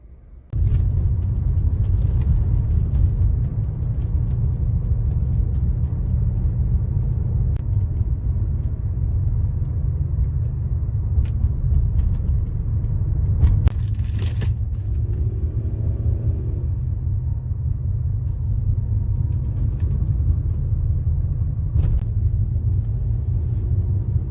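A steady low rumble from a black Renault Samsung SM5 Platinum sedan rolling along a road, its engine and tire noise constant and close throughout, with no one speaking.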